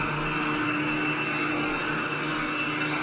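A Royal vacuum cleaner runs continuously indoors, a loud, steady motor whine with a high tonal hum, picking up dry soil from bedroom floors, with no voices over it.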